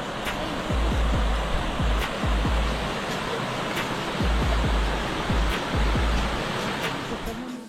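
Stream water flowing steadily where two streams meet at a confluence below a bridge near a temple in Junnar, Pune; a broad continuous rush fills the clip, with low thumps that could be passing traffic or wind.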